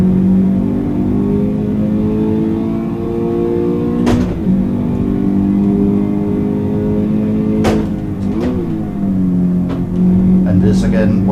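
A Toyota GT86 driven in Assetto Corsa gives a steady, loud engine drone with rising revs, broken by a few brief gear-change dips as the car accelerates.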